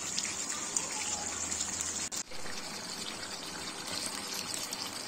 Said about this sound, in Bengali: এখানে আমি গরম করে রেখেছিলাম জল, ওই অল্প জল দিয়ে দিলাম।